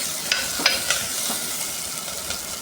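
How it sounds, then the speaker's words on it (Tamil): Onions, garlic and tomato sauté in a pan for a curry, with a close steady sizzle and a few sharp stirring scrapes. "பெரிய சைஸ் தக்காளி 1 போட்டு நல்லா வதக்கி விட்டுக்கணும்."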